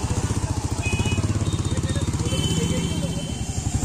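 A Royal Enfield Meteor motorcycle runs close by with a steady, rapid thumping engine pulse throughout, carrying on through the ride.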